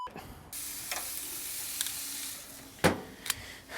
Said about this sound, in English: spraying this onto a hot grill?